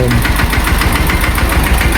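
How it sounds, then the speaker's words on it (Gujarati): A loud, close diesel tractor engine idles with a steady rhythmic chugging thump and rattle throughout. "ગણપતિ લઈ જવા માટે ટ્રેક્ટર આવી ગયું છે"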